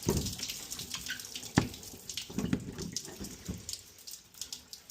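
Water gushes and splashes after a rusted laundry shut-off ball valve is repaired, an uneven close flow with knocks and spatters and no talk.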